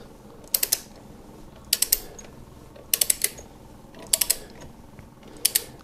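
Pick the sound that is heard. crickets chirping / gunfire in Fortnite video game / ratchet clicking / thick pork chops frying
ratchet clicking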